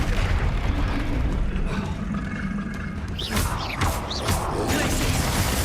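A Bombarda spell bursts during a troll fight in Hogwarts Legacy, a crashing blast with rumbling low roar and whooshing magical swirls amid continuous combat noise.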